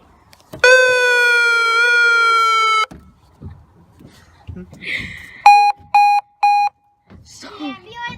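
A toy police siren gives a long steady electronic wail, then a few short beeping bursts, close and loud. Someone talks and reacts between the tones.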